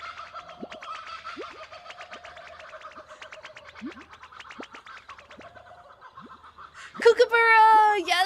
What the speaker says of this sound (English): Kookaburra! Yes, it's the kookaburra!